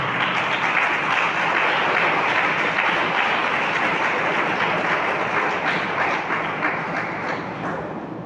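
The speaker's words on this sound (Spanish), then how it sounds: "¿Cuánto le dan un aplauso fuerte al Señor?" A church congregation gives loud, sustained applause during a Spanish-language sermon, a thick, continuous wash of many hands clapping that holds steady and eases slightly near the end.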